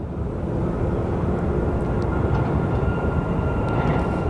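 At Phoenix Sky Harbor airport, an airplane taking off produces a steady, loud jet engine roar with heavy low rumble that holds constant and unbroken throughout.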